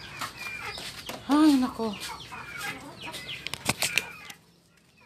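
Pet chickens clucking and flapping nearby, short bursts of fowl calls and wing movement, with someone speaking briefly over them before the sound drops away.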